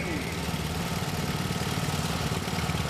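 A raffle tractor at an orange tractor show idles with a steady, low engine rumble, moderately loud and continuous, heard alone without talk.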